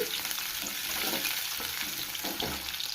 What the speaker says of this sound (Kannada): ಎಣ್ಣೆ ಕಾದ ನಂತರ ಸಾಸಿವೆ ಕರ್ಬೇವು ಕರಿಬೇವು ಇದ್ದೀನಿ ಈರುಳ್ಳಿ ಅರ್ಧ ಈರುಳ್ಳಿ ಕಟ್ ಮಾಡಿ ಫ್ರೈ ಇದ್ದೀನಿ